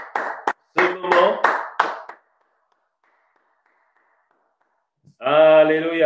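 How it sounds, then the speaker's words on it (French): A church congregation breaks into applause, a short burst of clapping lasting about two seconds, followed by silence and then a voice speaking. "Est-ce qu'on peut acclamer le Seigneur pour ce moment?"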